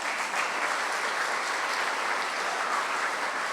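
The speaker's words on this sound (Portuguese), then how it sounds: "Quantos podem dar um forte aplauso ao Senhor por essa palavra?" A church congregation gives a strong round of applause, dense and continuous clapping from many people filling the room at even loudness.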